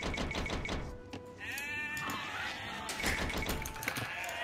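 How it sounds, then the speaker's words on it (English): Sheep bleating in an Age of Empires match on the Ghost Lake map, a wavering mid-pitched bleat rising over a busy backdrop of game clicks and taps, with a second fainter bleat later. "there's a lot of sheep in the middle"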